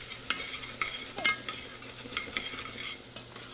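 A utensil stirs ginger frying in a pan for a salmon and shrimp stir-fry, with steady sizzling under a series of close scraping knocks about every half second.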